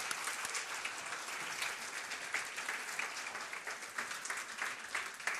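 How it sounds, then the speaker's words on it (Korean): Enthusiastic applause from a large crowd, dense and sustained clapping filling the room at steady loudness. "다시 한번 박수로 쳐드리고요"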